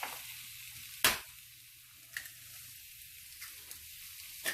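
Eggs frying in a pan give a faint, steady sizzle, broken by a few sharp clicks and taps of utensils against the pan.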